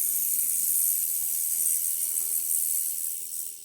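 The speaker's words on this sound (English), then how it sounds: "That's the sound of the ultrasonic working." A retainer cleaner running an ultrasonic cycle gives off a steady, thin electrical buzz and hiss that stays even throughout, fading slightly at the very end, with no talking.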